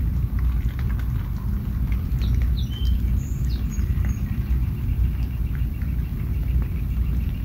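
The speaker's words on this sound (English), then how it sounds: "All the other birds are making their little chirps and their little calls and their little songs." Scattered bird chirps and calls sound faintly in the distance over a steady rumbling background, like rain or traffic.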